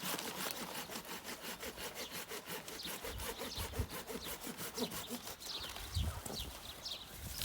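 A fruit tree branch being cut with a saw during low-form pruning. The sawing is steady and rhythmic, with repeated strokes close by for the whole stretch and no talk.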